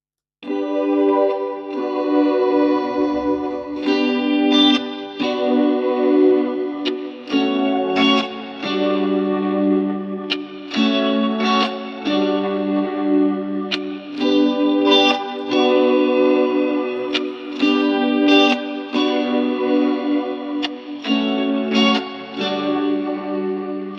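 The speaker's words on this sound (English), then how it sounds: "So we have some generated audio here. Let's have a listen to it." AI-generated new age guitar music made from a prompt, with clean chorus-tinged and echoing electric guitar chords and phrases played continuously and fairly loud, no speech.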